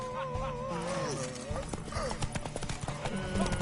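Rapid hoofbeats clatter as a horse gallops in the video game The Witcher 3: Wild Hunt, with a whinny rising over the hooves and voices speaking in the background.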